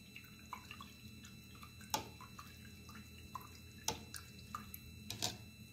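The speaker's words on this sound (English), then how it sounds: "Okay, so I'm going to rinse my brush out." A paintbrush rinsed in a water container between acrylic painting steps: faint swishes and small drips with a few sharp taps against the container, quiet and close over steady room noise.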